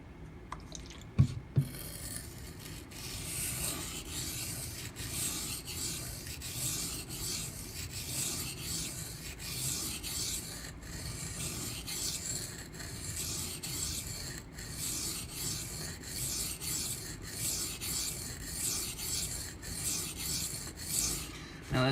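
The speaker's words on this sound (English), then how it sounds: "Now this is the 240 grit silicon carbide stone from Gritomatic." A Ganzo FH11 knife is sharpened on a 240 grit silicon carbide stone, giving a steady, close, gritty rasping of repeated strokes that runs without pause for over twenty seconds, with no talk.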